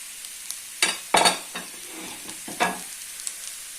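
Carrots and onion frying in a separate pan produce a quiet sizzle, with a few sharp clattering stirs against the pan.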